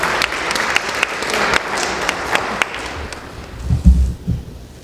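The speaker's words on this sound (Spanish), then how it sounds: "den un aplauso al Señor por su palabra." A church congregation applauds, a steady patter of many hands that thins out, then a few low thumps and shuffling noises near the end.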